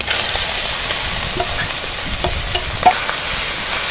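Leafy greens tossed into a hot pan with already-fried shrimp crackle and sizzle loudly, a continuous close frying hiss broken by light stirring scrapes and one sharper clink.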